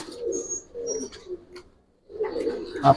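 Giribaz pigeons coo at the loft in soft, burbling phrases close by, separated by a brief pause before a louder burst, with someone talking quietly between them.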